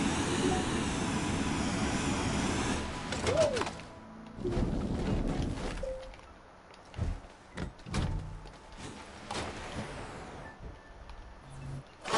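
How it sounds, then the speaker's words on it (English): A jetpack in the game Astroneer roars with steady rushing thrust for several seconds, then breaks into short bursts and sputtering blasts with clunks between them, loud and close, no talking. "Jetpack to the freaking rescue over here."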